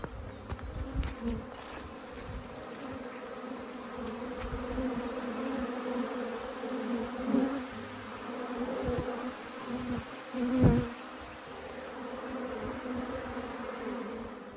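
A steady, dense buzzing of many honeybees around a hive fills the air close by, swelling and fading slightly as individual insects fly past.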